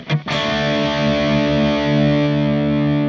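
Electric guitar with single coil pickups through the Overloud THU amp simulator on a distorted tone: a quick pick attack, then a loud, thick, sustained chord ringing out for several seconds.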